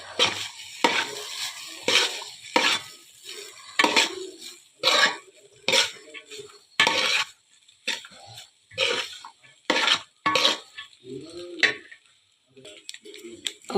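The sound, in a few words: stirring fried rice in a pan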